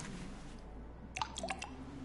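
Drugs are added to water in the game Twelve Minutes, with a short cluster of soft liquid drips and squishy plops near the end of a quiet stretch.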